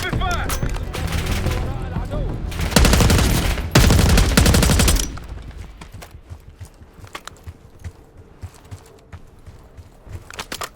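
Heavy automatic gunfire from Call of Duty: Black Ops 6 gameplay: several loud, rapid bursts over the first five seconds, then scattered quieter shots and footsteps under a low background.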